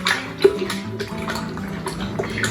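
A spoon stirring a homemade mango lime electrolyte drink, soft liquid swishing and a few light clinks against the glass, close and fairly quiet, no voices.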